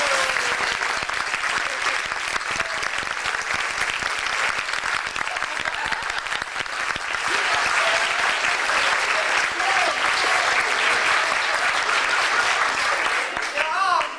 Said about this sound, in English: how about a big round of applause for our stars?